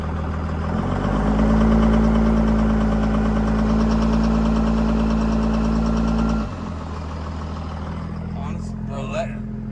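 A 1500HP plow truck engine runs loud and steady in drive with the brakes held, a deep rumbling drone with a rough knocking texture, then drops to a lower idle about two-thirds through as voices talk over it.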